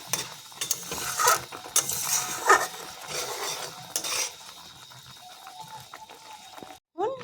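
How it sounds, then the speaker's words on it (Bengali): Spiny gourd (kakrol) cooking in a pan is stirred with a metal utensil, giving loud clattering scrapes over a light sizzle that ease into softer, sparser knocks before a brief silence and a final clatter. "একটু নেড়ে চেড়ে দিচ্ছি"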